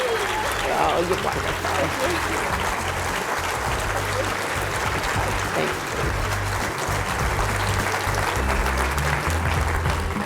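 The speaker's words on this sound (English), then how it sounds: "Let's give Abigail a round of applause." An evening charity event audience applauds steadily and loudly for a scholarship honoree, a dense continuous roar of clapping throughout, with a voice speaking briefly over it.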